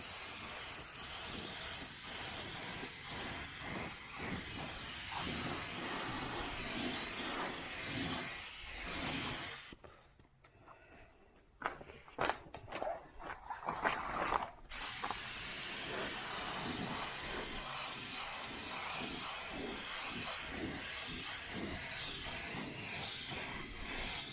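Spray gun laying paint on the bed of a 1978 El Camino SS at low pressure during rust repair, a steady broad hiss running almost continuously, with a brief pause in the middle before spraying resumes.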